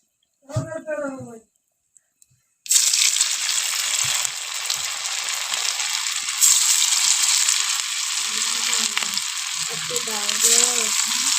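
Ground rice and lentil batter, mixed with chili, turmeric and salt, sizzles loudly and steadily in a pan on a gas stove. It starts abruptly and continues close up, with a person talking briefly before and near the end.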